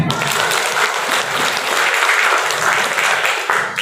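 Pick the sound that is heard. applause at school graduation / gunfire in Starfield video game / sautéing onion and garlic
applause at school graduation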